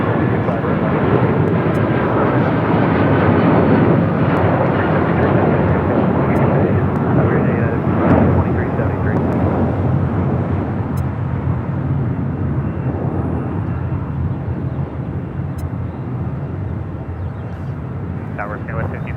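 An airliner takes off from runway 25 right at LAX, a loud, sustained jet roar that builds and then slowly fades as it climbs away.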